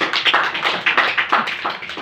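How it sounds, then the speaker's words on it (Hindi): Clapping at a religious gathering, a sequence of sharp, distinct hand claps close by in an irregular rhythm, fairly loud and sounding like a small group rather than a large crowd, with no talk over it. "ताली ताली हो जाए।"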